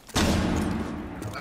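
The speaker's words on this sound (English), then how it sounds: "Flashbang in." A flashbang grenade detonates in a video game: one loud, sharp blast that rings out and decays over about a second.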